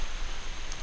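Steady rain falling outdoors on a farm, a dense, even hiss of drops on surfaces, close and continuous throughout with no voices.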